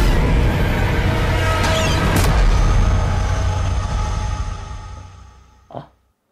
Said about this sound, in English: God, I hate the loudest death sound.